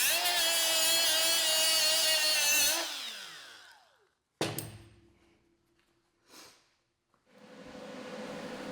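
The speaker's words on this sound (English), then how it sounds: "Now I've got to grind it back off before I can get a good weld." A power grinder strips POR 15 coating off a Corvette suspension control arm, running loud and steady for nearly three seconds before spinning down, followed by a sharp clank, faint knocks, and a renewed rougher grinding hiss near the end.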